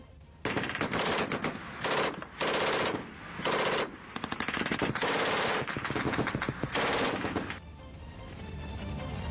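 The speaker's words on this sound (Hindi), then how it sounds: "काबुल में तालिबानी लड़ाकों ने जोश में फायरिंग भी की थी" Celebratory gunfire by Taliban fighters in Kabul: loud, rapid automatic bursts in several separate strings, with short gaps between them and continuous fire in the middle, fading out at the end with no talk.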